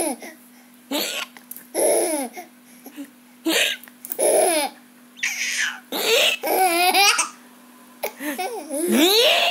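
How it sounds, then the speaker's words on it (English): A baby monkey hiccups again and again in short, sharp bursts at an uneven rhythm, close and fairly loud, with squeaky babbling sounds between them over a steady low hum. "He got the hiccups."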